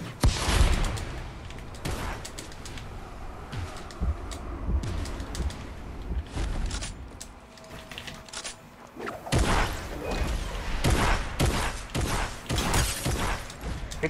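Gunfire in the Fortnite video game, a rapid string of sharp cracks and bursts, some close and loud, others scattered, with mechanical clatter between volleys and no talk.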